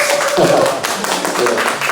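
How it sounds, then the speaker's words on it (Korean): A small church congregation at a Bible study gives a short round of clapping, with steady claps under faint voices and a brief tonal hum, fairly loud and close. "우리 서로를 축복하면서 또 이 시간 시작하는 의미에서 박수 한번 치고 우리 시작하도록 하겠습니다."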